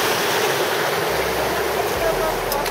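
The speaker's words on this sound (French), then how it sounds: "C'est cette rivière." Continuous rushing water, a steady broadband wash like a river flowing nearby, loud and unbroken for the whole stretch.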